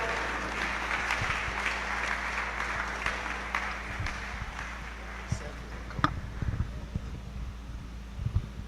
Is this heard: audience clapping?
yes